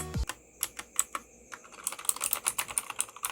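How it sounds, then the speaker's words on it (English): Blue switches on a Gigaware K550 mechanical gaming keyboard clack sharply as someone types, a few spaced keystrokes giving way to a quicker, irregular run of crisp clicks up close. "Every time you press the key, you will feel a small bump with a loud click noise."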